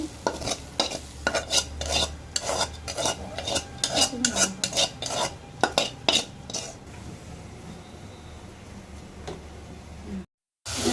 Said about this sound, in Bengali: দেখেন আমার মশলাটা কষানো হয়ে আসছে, তেলটা উপরে উঠে গেছে।